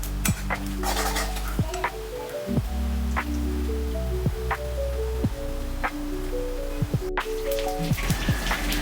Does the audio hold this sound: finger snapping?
no